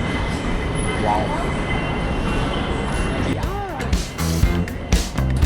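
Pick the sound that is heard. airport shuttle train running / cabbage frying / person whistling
airport shuttle train running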